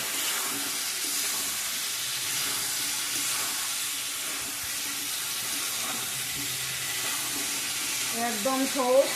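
Spices such as turmeric and chili powder frying in a pan for olive pickle, a continuous broad sizzle with stirring, close by, becoming busier toward the end.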